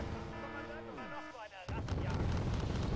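Artillery and mortar fire in the strategy game Wargame: Red Dragon: a descending whistle is followed by a loud booming impact and a dense rumble of blasts that keeps going after it.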